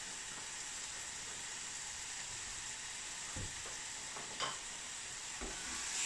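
Onions sizzle and fry in a pan with a steady, even hiss, and a few louder stirring scrapes come through near the end.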